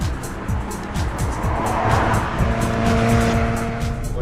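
An Audi Quattro sports car drives fast on a race circuit, its engine droning loud and steady from inside as it climbs and shifts pitch, with a faint tire squeal.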